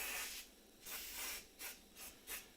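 Cooking spray hisses in several short bursts onto metal English muffin rings: one long spray, then four quicker ones in an uneven rhythm, close and fairly loud with no talking.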